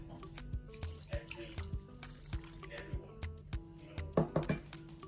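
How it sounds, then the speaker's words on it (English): Water runs and splashes into a bowl for palm nut soup amid clinks and knocks of stirring, with a person speaking over the kitchen sounds. "going to mix this and add a little bit of water"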